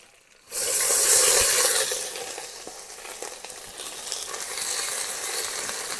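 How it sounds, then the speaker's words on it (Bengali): Ginger garlic paste hits hot oil with a sudden loud sizzle, then keeps sputtering and hissing steadily with light stirring scrapes. "আদা রসুনটা ভালো করে ভেজে নেবো।"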